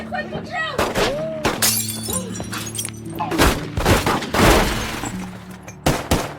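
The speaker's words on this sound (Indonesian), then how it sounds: "rumah mereka dihujani peluru dari berbagai arah" Gunfire hits a riverside house in a film, with shattering glass and breaking debris amid rapid bursts of shots that come repeatedly from several directions, loud and close, along with musical tones and some voices.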